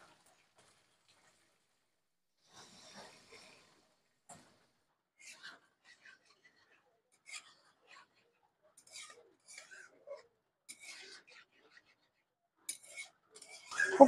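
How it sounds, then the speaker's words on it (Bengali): Potato and eggplant curry stirred gently in a pot, giving sparse, quiet clinks and scrapes of a utensil against the metal, scattered irregularly and growing a little busier and louder toward the end. "খুব হালকা হাতে নাড়াচাড়া করতে হবে"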